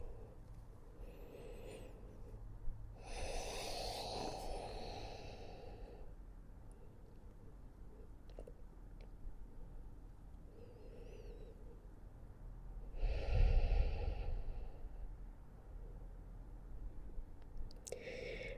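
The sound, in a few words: deep inhales and exhales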